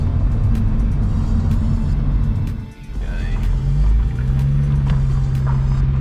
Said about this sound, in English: That is wastegate rattle.